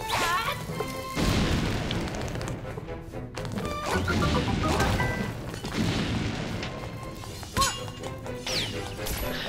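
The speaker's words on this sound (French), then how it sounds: "Poser une bombe." Bombs exploding in The Legend of Zelda: Link's Awakening on Switch, a string of sharp crashing booms with short gaps between them, set over game sound effects and music.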